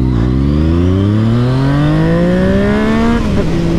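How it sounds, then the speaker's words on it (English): A Yamaha MT-09 motorcycle with a loud aftermarket Akrapovič exhaust revs up in one long rising pull, the engine note climbing steadily before a brief drop at the end. "this bike sounds proper with this Acropovich exhaust now."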